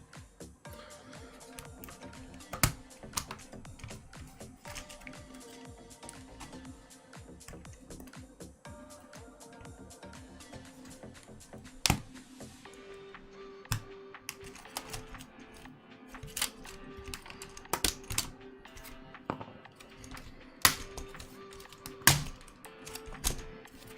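A mechanical keyboard is handled while its Alps switches are pulled for harvesting, giving scattered sharp clicks, taps and knocks over a quiet background, sometimes clustered and sometimes isolated, with no talking.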